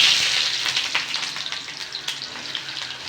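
Onions fry in a little oil in a kadai, making a close, steady sizzle with bursts of crackling and no voices.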